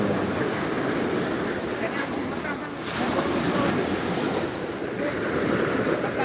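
Surf rolls steadily onto a tourist beach in Aceh, with a continuous wash of breaking waves and wind buffeting the microphone throughout, loud and unbroken with no speech.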